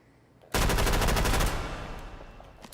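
A Thompson SMG fires a single fast, loud automatic burst of about one second in a VR video game, then the sound tails off into a fading echo.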